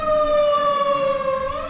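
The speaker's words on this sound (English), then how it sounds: "That fire truck siren in the back is to put out the rage fires" A fire truck siren wails steadily in the background, a sustained rising and falling tone, fairly loud and unbroken, with no talk over it.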